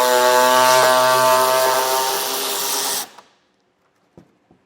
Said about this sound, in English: the next step will be to remove this bolt that holds this wheel well in